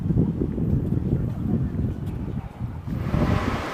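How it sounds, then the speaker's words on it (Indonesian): Cold wind blows outdoors, a steady rushing and buffeting roar across the microphone that swells and eases over a few seconds, loud and close. "mana angin yang berhembus dingin-dingin gini"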